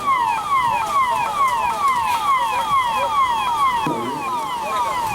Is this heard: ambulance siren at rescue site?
yes